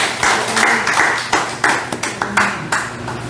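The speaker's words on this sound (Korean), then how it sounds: "하나님께 영광의 박수를 올리겠습니다." A church congregation at a prayer meeting claps in praise, a series of loud, sharp bursts of applause in an uneven rhythm, close by and with no talking.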